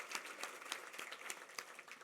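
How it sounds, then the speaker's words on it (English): Faint, dense applause rises from a crowd at a family business awards show, a soft continuous patter of many hands clapping with no voices over it. "A big round of applause for everybody involved"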